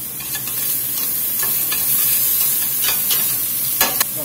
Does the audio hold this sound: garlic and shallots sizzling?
yes